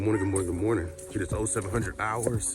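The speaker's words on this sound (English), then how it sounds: "Sorry if you can hear the dog in the background." A dog barks and yips in the background on a rainy morning while someone talks steadily over it, the barking staying behind his voice.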